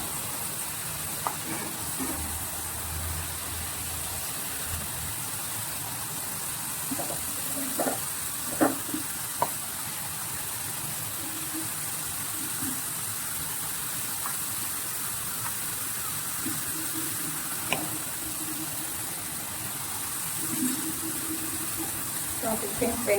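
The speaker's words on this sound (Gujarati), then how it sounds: "તો આપણી ફ્રેન્ચ ફ્રાઈમાં તળી ગઈ છે" French fries deep frying in hot oil, a low continuous sizzle and bubbling with occasional soft clinks and stirring taps, fairly faint and steady throughout.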